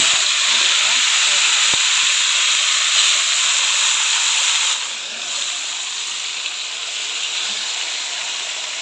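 Steady loud hiss of whole spices, bay leaves and dried chillies sizzling in hot cumin oil for a mutton pulao, continuous and close, dipping slightly midway.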